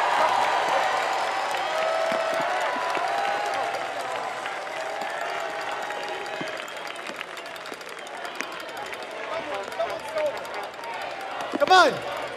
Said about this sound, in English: Get the kids out here for one round of applause.